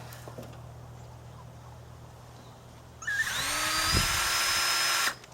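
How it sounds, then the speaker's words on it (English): A power drill whirs up loudly and runs steadily for about two seconds drilling holes for deck screws on a chicken coop, then cuts off abruptly after a stretch of quiet room tone. "we're going to drill for those"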